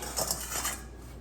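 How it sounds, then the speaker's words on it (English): Beaten egg whites moved into a bigger bowl, with a quick run of close clinks and scrapes of a utensil against the bowls. After that it fades to quiet. "I'm gonna transfer my egg whites into this bowl because I need a bigger bowl."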